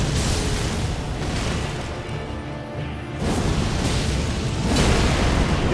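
Spell explosion knocking down an enemy in Elden Ring, a loud, broad roaring blast that fills the clip, briefly dipping before surging again, with no talking.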